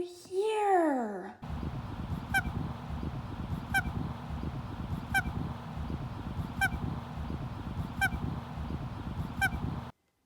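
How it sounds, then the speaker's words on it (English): A goose-like bird honks once loudly up close at the start, followed by a repeated series of fainter rhythmic honks or calls about every second and a half over steady background noise. "I hear a bird."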